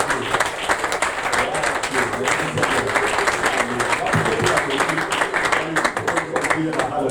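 A church congregation claps and cheers in praise of the Lord, loud sustained applause filling the room with voices mixed in.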